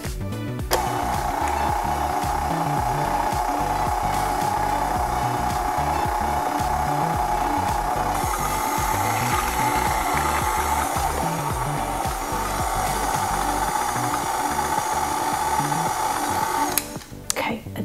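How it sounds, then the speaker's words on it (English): A KitchenAid stand mixer beats almond pound cake batter with a steady, close motor whir and rhythmic scraping churn that runs continuously, stopping abruptly near the end. "And then I am just gonna let the KitchenAid do all of the work."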